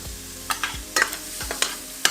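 Garlic and carrot sizzle softly in a pan, broken by several quick stirring scrapes at an uneven rhythm, close and fairly quiet with no talking.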